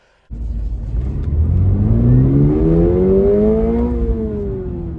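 A Subaru BRZ tS with its 2.4-liter engine revs hard from idle, the pitch climbing steadily through the gears as a loud, close, continuous engine note with no talking.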